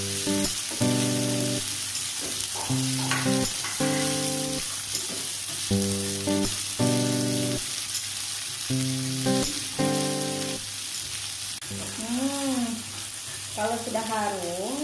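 Ayam kalasan spice paste fries in hot reused oil, a steady sizzle and hiss with occasional stirring underneath louder tonal music notes that come and go throughout.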